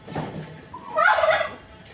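A turkey at a home with pet poultry lets out a loud, close gobbling call, a rapid warbling burst that swells in the middle and stands alone without voices.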